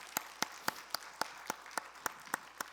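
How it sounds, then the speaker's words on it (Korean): At a Friday night church worship service, clapping comes as a faint, evenly spaced series of about ten crisp claps in a steady rhythm. "박수로 격려해드리도록 하겠습니다"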